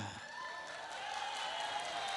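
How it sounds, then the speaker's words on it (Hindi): Applause from a live comedy audience in Delhi, a dense, steady wash of clapping that holds at a moderate level for about two seconds with no voices over it. "भाई साहब के लिए जोरदार तालियां"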